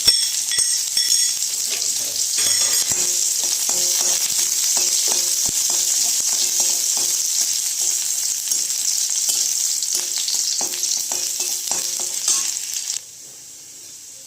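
A dried red chilli with chopped ginger and garlic sizzles steadily in about two teaspoons of hot ghee, with light stirring clicks running through the frying before it cuts off abruptly near the end.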